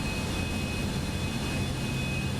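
A Cessna Citation X business jet taxis in Microsoft Flight Simulator 2024, its engines giving a steady, broad, unbroken roar with a faint high whine running through it.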